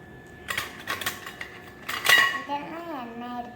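Miniature toy kitchen utensils and a small ladle from a kids' kitchen set being handled: bright, close metallic clinks and rattles in quick bursts, with a brief sustained ringing tone near the end.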